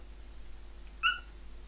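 A cat meows once behind a closed door in a quiet home, a single brief, muffled call that stands out against faint background hiss.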